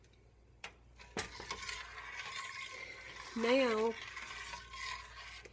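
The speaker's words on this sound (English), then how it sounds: "just stir all that up" Turnip greens and turnips, seasoned with a dash of vinegar, are stirred in a pot with soft scraping and rubbing strokes, while a voice speaks briefly over the stirring.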